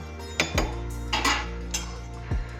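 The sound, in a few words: stirring chicken biryani in a pressure cooker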